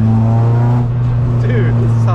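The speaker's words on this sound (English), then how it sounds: "It has that really defined Honda sound" Engine of a Spoon-built Honda Civic EG6 drones loud and close with a steady high-pitched tone, voices speaking over it.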